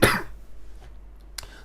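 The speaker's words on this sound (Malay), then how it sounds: "cikgu batuk sakit tekak sebenarnya ni" A teacher with a sore throat lets out a loud, harsh cough up close, followed by a brief quieter cough or throat-clearing a moment later, with no talk.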